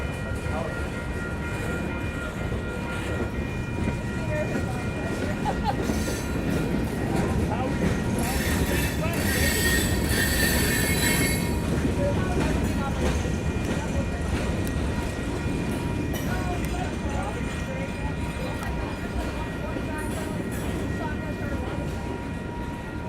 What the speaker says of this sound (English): Can this be the end of the train?